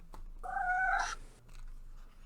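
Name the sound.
cat meowing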